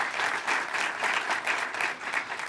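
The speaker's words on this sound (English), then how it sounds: "give me a round of applause" Audience applause at a State of Black LA community event, a full, steady round of many people clapping, fairly close, with slight surges in rhythm and no speech over it.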